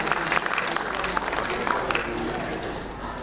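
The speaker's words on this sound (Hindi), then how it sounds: "एक बार तालियों के साथ अभिनंदन इस मंच का।" Audience applause greets the stage party at a Hindi literary award ceremony, a steady mid-level wash of clapping that runs under a voice speaking through the hall.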